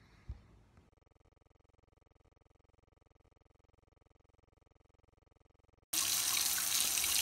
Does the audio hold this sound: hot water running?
yes